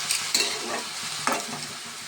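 Chopped tomatoes are stirred and fried in a pan of oil for a Bengali home-style dish, giving a soft continuous sizzle broken by a few sharp scraping stirs of the spoon against the pan, with no talking.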